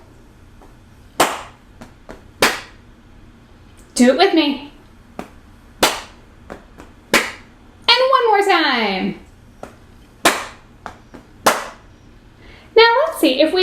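A music teacher at home claps out rhythm patterns of long and short sounds, with crisp single hand claps spaced irregularly, close and loud, between bursts of her speaking.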